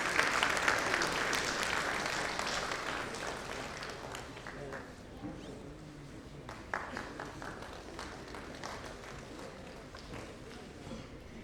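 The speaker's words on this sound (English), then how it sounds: "Applause, please, for the audience." Audience applause at an IIChE award ceremony, a broad wash of clapping that starts strong and gradually thins to scattered claps, somewhat distant and moderate in level.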